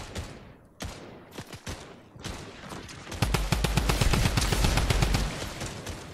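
Rapid gunfire from a weapon in a shooter video game, starting as scattered shots and building into sustained automatic bursts that grow louder toward the end, with no talk over it.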